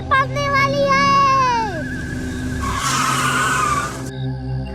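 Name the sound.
car skidding to a sudden stop in cartoon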